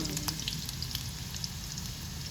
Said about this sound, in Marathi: तो जरा थोडासा लालसर घालते लसूण.